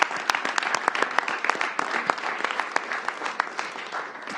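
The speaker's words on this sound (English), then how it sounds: "So let's give them another round of applause." Applause from an audience at a mayor's youth summer employment event, a steady crowd of clapping hands held evenly for several seconds with no talk over it.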